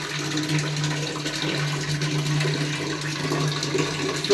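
Water runs in a steady, even rush from the tap of an electric instant water heater as it starts producing steaming hot water, with a low electrical hum underneath and no talking.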